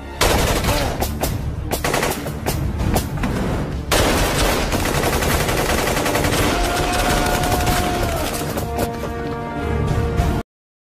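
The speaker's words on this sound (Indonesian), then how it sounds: "Pada akhirnya terjadilah baku tembak lagi." A film shootout erupts in loud, rapid automatic gunfire and repeated shots, dense bursts continuing almost without pause over a booming soundtrack before cutting off abruptly.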